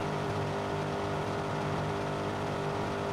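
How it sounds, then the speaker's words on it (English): A car engine strains under load in the Watch Dogs video game, a steady loud droning roar with a constant pitch and no letup, no voices over it. "this car sounds like it's about to just pop"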